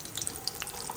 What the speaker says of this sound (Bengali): অরেঞ্জ চিকেন, এটা এখন ব্যাটারে ফ্রাই হচ্ছে